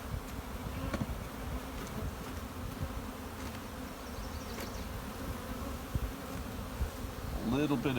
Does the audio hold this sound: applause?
no